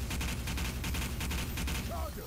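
Rapid continuous gunfire in the zombie shooter Left 4 Dead, aimed at a Charger, a dense rattling fusillade that stays loud and steady throughout with a brief voice near the end.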